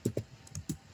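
A few quick keystrokes on a computer keyboard, four or five distinct close clicks in an uneven rhythm, alone and fairly quiet.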